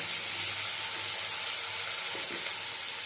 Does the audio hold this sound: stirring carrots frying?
yes